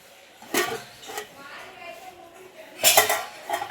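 Metal clanks and clinks from a steel lid and utensils on a mutton curry pot, a few sharp knocks in quick succession close by, with a person talking over them.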